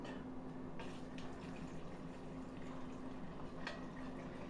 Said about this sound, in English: We're going ahead and put some water in it.